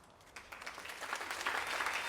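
An audience at a suicide deterrent ceremony breaks into applause, starting faint and swelling into steady, dense clapping that carries through to the end.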